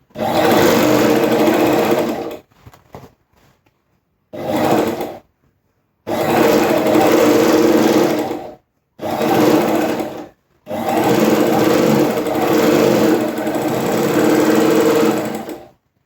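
An overlock sewing machine trims and stitches fabric edges for a flare skirt, running loud and close in five long bursts separated by brief silent pauses.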